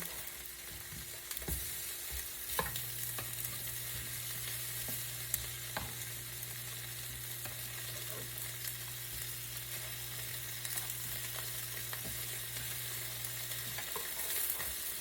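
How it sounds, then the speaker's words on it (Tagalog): Food frying in a pan with no added oil, releasing its own fat, a steady soft sizzle with a low constant hum beneath and occasional faint ticks, nearby and without speech. "nagmamatika siyang mag-isa. Kahit hindi mo nalagyan ng mantika, ay pwede."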